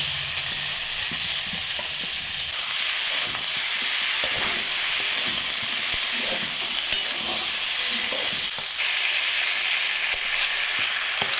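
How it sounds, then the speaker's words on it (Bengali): Potatoes and cauliflower frying with spices in oil for a fish curry, a loud continuous sizzle with steady stirring and scraping throughout, close up and with no talking. "এবার মশলার সাথে আলু আর ফুলকপি দিয়ে ভালোভাবে মিশিয়ে নেব"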